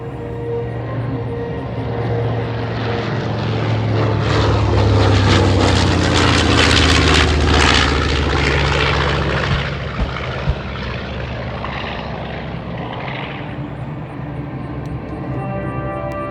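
Two WWII Pacific bombers fly the pattern at an airshow, their piston engines and propellers making a loud, sustained drone that swells as they pass close by and then slowly fades, with no talk.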